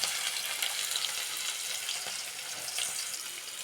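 Finely chopped onions fry in oil in a pan, making a soft, continuous hissing sizzle at low volume with faint crackles and no speech.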